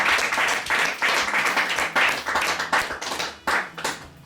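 Congregation at a church service clapping together in rhythmic bursts, a dense, loud applause with steady repeated hand claps throughout.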